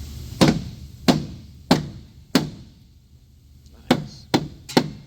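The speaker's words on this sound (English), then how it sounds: "Knock that down right there with that big old hammer you got" Seven sharp, heavy hammer blows on the metal of a wrecked Honda Civic Si's door jamb, spaced unevenly with a short pause in the middle, each ringing briefly before fading.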